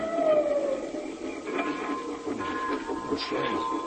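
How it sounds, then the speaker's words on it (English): A small engine train pulling a single coach arrives with a low mechanical rumble, faint rattles and a brief tonal whistle-like note. It comes in at moderate distance with no talk over it. "there she is, a-coming around the mountain"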